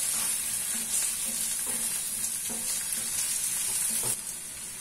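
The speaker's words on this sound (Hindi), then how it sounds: "चिकन अच्छे से फ्राई हो गया" Chicken sizzles and fries in a pan with onion and garlic, a steady continuous crackle with faint stirring scrapes at regular intervals, close and alone without any talk.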